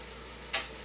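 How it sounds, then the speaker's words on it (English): Chicken, broccoli and garlic sautéing in an Instant Pot, a faint steady sizzle with one brief brighter hiss or stir near the middle. "I wanted just to saute it a little bit to get the broccoli and the chicken, you know, sauteed in the garlic and stuff"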